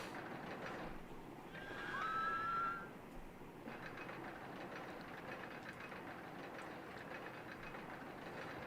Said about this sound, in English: So here's a train.